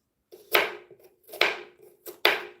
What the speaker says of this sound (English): I'm chopping it right now